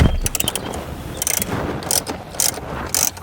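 A socket wrench on an extension ratchets out the bolts holding the factory radio in a 2012-2019 Lexus LS dash, giving quick clicking ratchet bursts and metallic rattles at close range.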